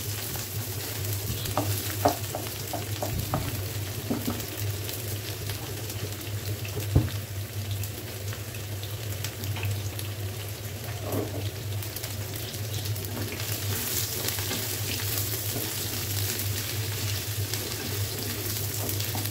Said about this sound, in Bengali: আর এখন আমি মূলাগুলাকে ওই তেলের মধ্যে ভেজে নিচ্ছি।